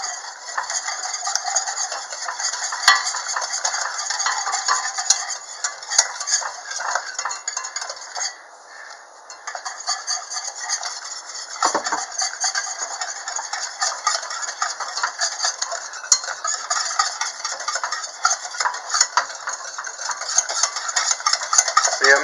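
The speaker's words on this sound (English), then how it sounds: "Make sure you scrape against the sides of your pot." A spoon stirs and scrapes a cooked flour mixture against the sides of a pot for ermine frosting, a continuous close rhythmic scraping and clinking that barely lets up.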